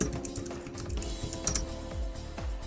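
Someone types on a computer keyboard, a quick irregular run of close, crisp key clicks with brief pauses, quiet and alone without any talk.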